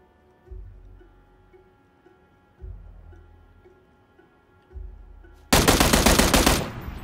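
Gunfire in PUBG: three dull, distant-sounding thumps at steady intervals, then a sudden loud, close burst of rapid automatic fire that fills the end.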